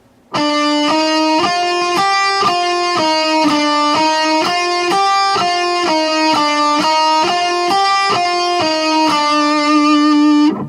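A guitar plays a fast, even run of picked notes in a steady repeating pattern, clean and close, with no talking.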